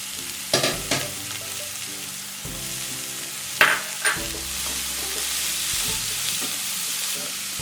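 Onion and carrot stir-fried in a hot pan for egg fried rice, a steady close sizzle running throughout, with a few sharp scrapes and clanks of the spatula stirring near the start and middle.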